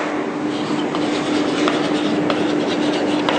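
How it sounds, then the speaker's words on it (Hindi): Marker or chalk scraping across a classroom board during a physics lesson on power, steady scratchy strokes with brief taps, close and continuous with a faint hum underneath. "थोड़ा इसको शब्दों में लिख लेते हैं।"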